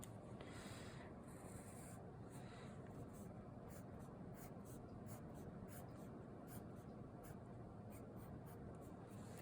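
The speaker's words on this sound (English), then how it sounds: "So I'm going to draw more of a skeleton." Pen or marker drawing a dead fish's skeleton by hand, a steady close scratching and rubbing of strokes that runs through the whole stretch, with short quick marks near the end.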